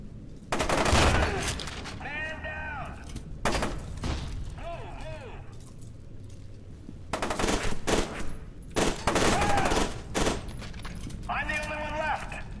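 Pump-action shotgun blasts in the video game F.E.A.R., several loud broadband shots spaced irregularly, each followed by ringing mechanical pump and shell clatter, with game background noise between.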